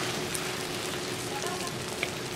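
Onions and curry leaves frying in sesame oil for a Jaffna-style brinjal curry, giving a steady, soft, even sizzle throughout with no clear breaks.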